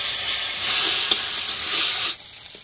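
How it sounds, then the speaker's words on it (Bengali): Spice-paste water poured into tomatoes frying in a pan, giving a close, steady sizzle that swells into louder hissing bursts before settling down. "মশলা বাটার জল দিলাম"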